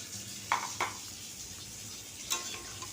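A spoon scrapes and clinks in a pan as spiced vegetables with ginger-garlic paste and a little water are stirred, a few distinct knocks over a faint low sizzle.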